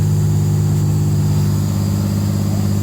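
A big rig truck's diesel engine runs steadily and loudly as the rig shifts into gear and begins to move, a deep continuous rumble filling the whole stretch with no break.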